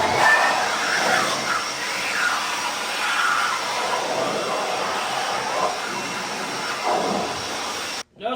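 Compressed air blasts off the cylinders of a 6.0 LS engine block in a steady, loud hissing rush that holds for about eight seconds before cutting out abruptly at the end.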